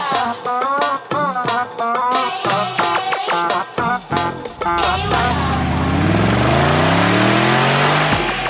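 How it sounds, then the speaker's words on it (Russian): Cars revving and accelerating as they race along roads beside desert dunes in Dubai; music and talk dominate the first half, then a loud, rising engine roar with pitch sweeps takes over. "Тачки, которые гоняют вдоль барханов по идеальным дорогам"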